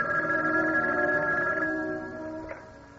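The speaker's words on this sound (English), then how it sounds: "when the phone rang" A telephone rings with a sustained electronic bell tone for about two seconds, then fades and cuts off with a small click, close and alone.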